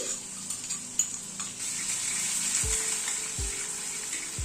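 Crushed garlic and green chili hit a pan of frying potatoes, producing a soft continuous sizzle broken by a few low scraping stirs near the end.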